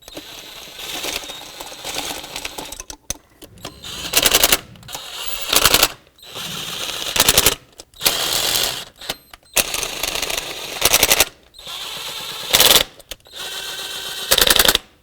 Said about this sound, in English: I'm going to put the nuts on now. I'm going to get them snug, starting from the center, working my way out.